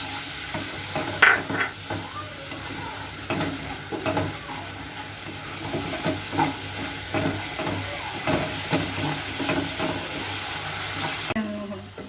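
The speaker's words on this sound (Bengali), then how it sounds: "এবার আমি অল্প একটু জল দেবো মশলা কষানোর মতন।" Spice masala sizzles and fries in a pan after a little water is added, a steady hiss with repeated stirring scrapes, close and continuous for the whole stretch.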